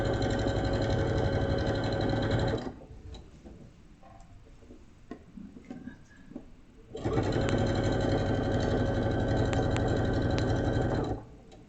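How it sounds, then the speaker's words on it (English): A sewing machine stitches quilt pieces down for a table mat block, running loudly and steadily in two long bursts with a quiet pause between them, no talking. "we're going in again and sewing these down"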